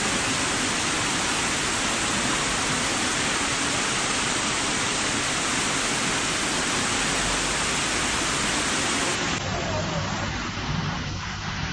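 Floodwater surging into a Moscow subway station, a dense, continuous roar of rushing water that stays loud and steady throughout, with the rush thinning slightly near the end.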